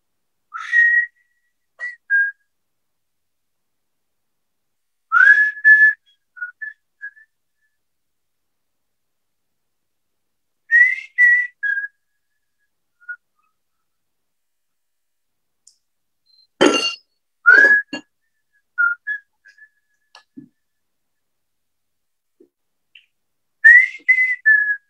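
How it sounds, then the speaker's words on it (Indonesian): A person whistles short melodic phrases separated by long silences, clear and close, with a few sharper bright notes mixed in. "Dan hamba bersiul."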